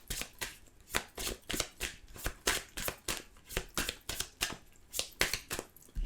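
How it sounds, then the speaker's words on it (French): Tarot cards shuffled briskly by hand, a rapid series of crisp riffling bursts in a steady rhythm, close and clear with no talking. "on va tirer quelques cartes"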